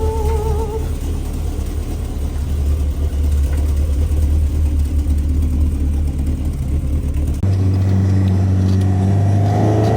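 A small Escort car's engine growls and revs steadily at close range, its low rumble shifting pitch partway through as it settles into a deeper drone.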